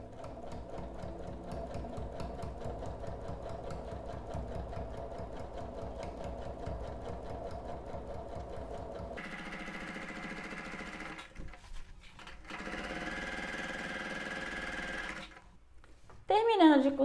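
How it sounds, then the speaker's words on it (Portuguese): A sewing machine stitches a quilt block with a steady, close mechanical whir that runs for several seconds, changes tone midway, then stops and starts in shorter bursts. "Terminando de costurar, a gente levanta o pezinho e corta"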